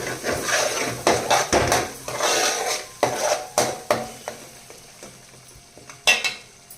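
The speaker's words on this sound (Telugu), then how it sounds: "అల్లం వెల్లి పేస్ట్ మనం వేసిన గుడిపాయ పేస్ట్ ఇదంతా చక్కగా ఫ్రై అయిపోయింది" Ginger-garlic and onion paste cooking in oil in a pan, heard mostly as a run of utensil scrapes and clanks from stirring over a soft, steady sizzle, close and moderately loud, with no voices.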